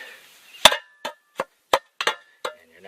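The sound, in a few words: shovel striking rocky ground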